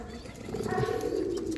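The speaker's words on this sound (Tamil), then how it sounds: "இந்த கேஸில் ஒரே ஒரு புறா தான் இருக்கும்." A single pigeon coos in a backyard coop, one low, rolling call swelling and holding near the microphone with little else around it.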